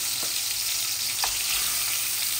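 Tilapia fish pieces coated in salt and turmeric fry steadily in hot oil, a continuous close sizzle with faint crackles and no voices.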